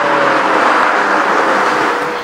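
BMW M6 Competition with its 4.4-litre twin-turbo V8 petrol engine, a steady loud broadband engine roar held close throughout with no rise or fall in pitch.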